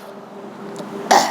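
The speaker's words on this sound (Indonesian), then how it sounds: "saya sebatuk-batuk nih ya, pilek ya" A single short, sharp cough bursts out near the end after quiet room tone, close and fairly loud from someone with a cold.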